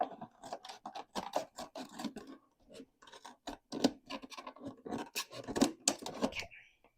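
Garden shears snip and scrape repeatedly through a plastic container in a run of close, crisp cuts with irregular rhythm and short pauses.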